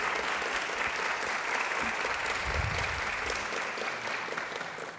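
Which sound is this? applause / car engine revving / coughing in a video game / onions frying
applause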